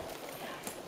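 Steady hoof clip-clop of a horse walking, a continuous run of soft thuds with faint background noise and no clear voices.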